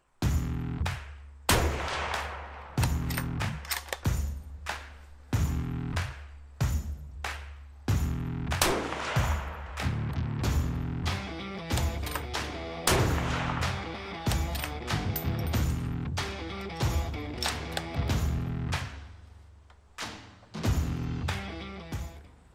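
A used Remington 700 rifle on a chassis fires a five-shot group at a range, sharp reports standing out among many other gunshots from the range, loud and repeated throughout.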